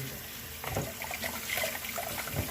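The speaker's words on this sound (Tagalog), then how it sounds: "Ngayon ay ating huhugasan ang ating nilinis na hipon." Tap water runs steadily over cleaned shrimp in a sink, a continuous close splashing hiss that grows a little fuller as the hands start washing, with no talk.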